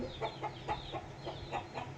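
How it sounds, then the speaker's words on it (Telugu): A gamecock rooster of about 3.5 kg, shown for sale, gives soft, close clucks in a steady rhythm, about seven short calls in two seconds, with no talking over them. "మూడో పుంజుని కూడా చూపిస్తాను చూడండి ఇప్పుడు."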